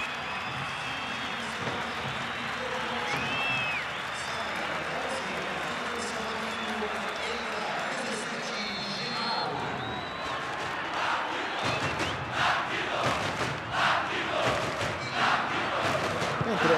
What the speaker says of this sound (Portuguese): o Anderson vai ser aplaudido de pé pela torcida